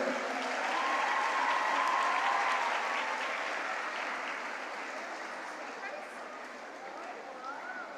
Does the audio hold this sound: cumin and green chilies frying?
no